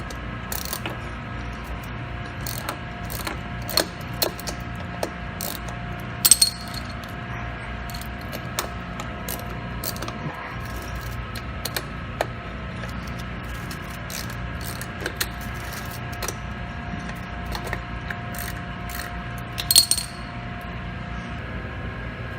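A 1/2-inch ratchet removing bolts from a Zamboni board brush clicks in quick repeated runs of metallic ticks, with occasional louder clanks over a quiet background.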